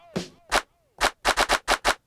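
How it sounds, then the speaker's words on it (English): A sampled clap sounds in a string of sharp, bright hits, several in quick succession, mixed with some short rising swept tones at the start, heard alone at moderate level. "That clap sound right there"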